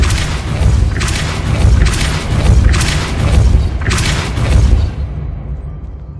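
Spell blasts in the Hogwarts Legacy video game, a Depulso force spell cast on a platform puzzle: four heavy booming thuds in steady rhythm over a low rumble, then fading out, with no talk.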